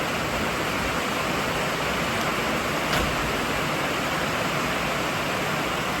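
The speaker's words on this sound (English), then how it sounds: "it's raining pretty hard now" Heavy rain pouring down hard, a dense, even hiss that holds steady and loud throughout, with no breaks or voices.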